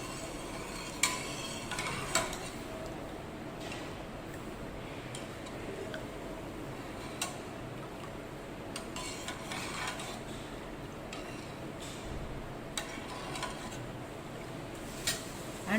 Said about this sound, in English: I'm going to add the mango pulp to that